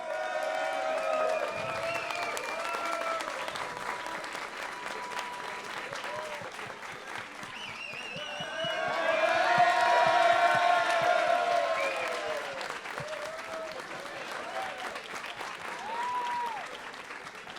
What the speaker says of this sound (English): let's make some noise for your Brazilian Dynasty champion